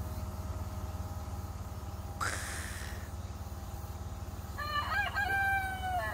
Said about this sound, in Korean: 닭울음 소리 밭에 오니까 역시